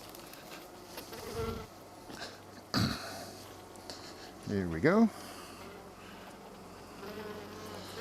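Calm honeybees hum steadily inside a hive, a low, quiet buzz running under brief human sounds, a short spoken phrase and a cough or throat clearing.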